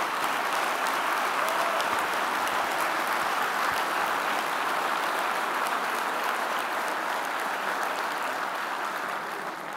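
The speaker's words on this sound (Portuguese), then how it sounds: "Uma salva de palmas especial para a IEL dos Açores." Sustained audience applause at a party strategy-motion congress, a dense, even wash of many hands clapping that holds steady at full strength throughout with no voices on top.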